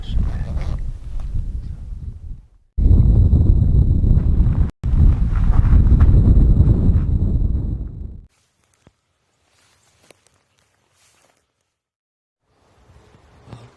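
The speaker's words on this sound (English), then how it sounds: "Now the wind is blowing in my face." Wind gusts buffet the microphone outdoors during an archery hunt in Utah, two loud rumbling bursts several seconds long, followed by near silence and a few faint sounds.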